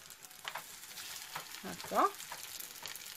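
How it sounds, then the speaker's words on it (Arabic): Chicken and béchamel bourek pastries fry in hot oil with a soft, steady sizzle, while someone speaks briefly over it. "بدات انا راني باشرت يعني بعمليه القلي"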